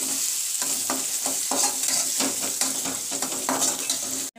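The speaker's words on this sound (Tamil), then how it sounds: "வெங்காயம் நல்லா பொன்னிறமாக வறுத்துக்கணும்." Onions fry in a pan with a steady, close sizzle, punctuated by regular scrapes of stirring and a sharp clank of metal right at the end.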